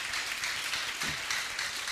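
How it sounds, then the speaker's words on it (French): An audience at a French-language Christian gathering applauds, a dense, steady patter of many clapping hands with slight surges, heard on its own without talk. "Applaudissez encore pour cette question"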